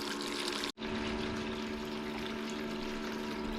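Water running steadily through a gold prospecting sluice at a creek, a constant rushing pour with a pump-like hum and a momentary cut-out near the start.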